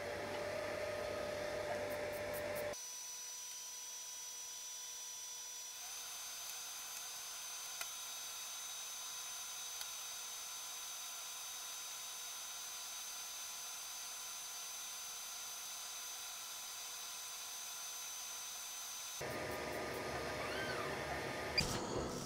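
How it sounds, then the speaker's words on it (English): A WeCreat Lumos laser engraver with slide extension works on 3D printed material, producing a steady high whine and hum that holds evenly for a long stretch between louder machine movements at the start and end. "We're gonna get ready to send it across to the machine and then we will engrave."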